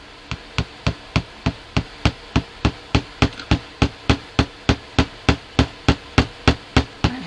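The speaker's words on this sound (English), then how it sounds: "And hammer it down through until I get all the way through" A hammer drives a plastic push pin through a stack of paint-covered paper sheets, about twenty sharp, evenly spaced taps in a steady rhythm, close and loud.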